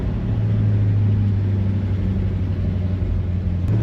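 A car coasts slowly down a driveway, its steady low engine rumble and road drone running close and continuous without any break.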